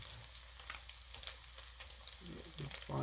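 Spam fried rice with ginger, salt and pepper frying in a pan, a faint steady sizzle with light stirring scrapes and a few clunks toward the end.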